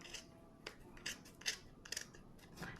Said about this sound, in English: very carefully get your scissors in there